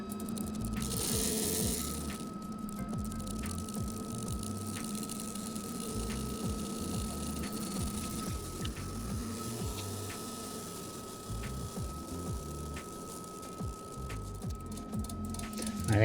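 A GATmatic GI-600PB fuel injector tester runs on injectors from a Mini Cooper S, giving a steady mechanical hum with a thin constant tone and faint rhythmic ticking throughout, no voices.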